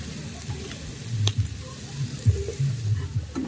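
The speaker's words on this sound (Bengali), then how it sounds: "পেঁয়াজটাকে আমি হালকা লাল করে ভেজে নেব, যাতে পেঁয়াজের কাঁচা গন্ধটা চলে যায়" Onions frying in oil in a pan, a low steady sizzle with faint bubbling and occasional soft stirring bumps, close and without talk.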